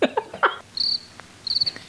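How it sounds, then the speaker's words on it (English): Video game crickets chirping, a short, bright high-pitched trill heard twice in quick succession over quiet background, with a few brief clicks just before. "They fucking literally have crickets."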